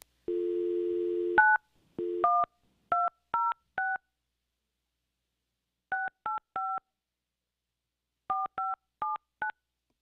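Touch-tone phone dialing to call someone: a steady dial tone, then a series of short clear DTMF beeps in three separated bursts, loud and alone with no talking.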